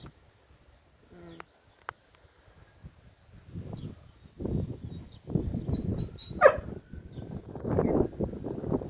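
A puppy yips and whimpers a few times, then noisy rustling and bustle build up with scattered sharp cries mixed in, fairly close, outdoors on a walk.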